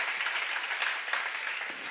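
Steady applause from a church seminar audience, a continuous dense patter of many hands clapping at moderate distance, with no voices over it.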